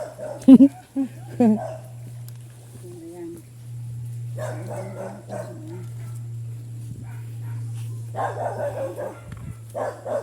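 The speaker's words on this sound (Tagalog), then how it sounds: "may asong Dito yung bahay nila oh" A dog near a rural house gives a couple of sharp barks at the start, then yips faintly while people talk outdoors over a steady low hum.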